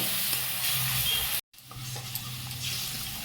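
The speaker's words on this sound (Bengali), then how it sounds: "পেস্টটাকে একটুখানি ভালো করে কষিয়ে নেব।" A tomato and ginger spice paste for yogurt cauliflower sautés in a pan over medium heat, giving a soft continuous sizzle with stirring scrapes and a momentary silent gap partway through.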